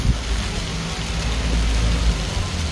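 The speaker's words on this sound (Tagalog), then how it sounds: "Umuulan na po" Steady rain pours down, a dense continuous hiss of drops hitting surfaces, with low rumbling underneath throughout.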